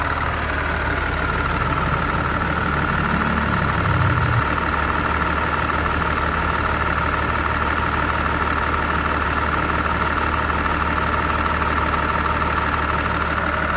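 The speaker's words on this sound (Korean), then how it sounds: "엔진 소음만 들리고 있죠." A Kia Mohave engine idles steadily up close with the air conditioning off and its standard cooling fan at low speed, a constant low mechanical rumble with a faint whirring hum, unchanging throughout.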